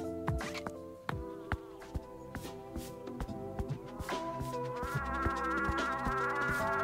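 Bees buzzing in the cozy video game Cozy Caravan, a steady insect drone under scattered plucky game music notes and clicks, growing fuller toward the end.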